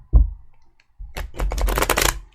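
A deck of tarot cards shuffled by hand: a single soft tap, a brief pause, then a quick riffling flutter of card edges building up and fading, close and alone with no talking.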